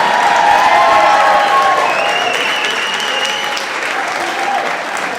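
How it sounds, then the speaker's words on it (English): Loud, steady applause from a whole town's crowd at a Westmeath County Council awards ceremony, with a few cheers and voices on top, holding at a strong level throughout. "They're all here, they're all clapping,"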